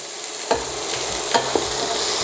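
Carrots sizzle in a frying pan over moderate heat, with a steady close crackle broken by several scraping stirs of a utensil against the pan.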